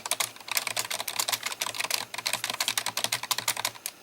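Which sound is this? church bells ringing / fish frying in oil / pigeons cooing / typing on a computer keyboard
typing on a computer keyboard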